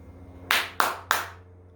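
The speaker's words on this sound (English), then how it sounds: "Okay, clap goes up to 101." Three sharp, loud single hand claps spaced about a third of a second apart, close by, about 1.5 feet from a decibel meter, with a quiet room hum underneath and no talking.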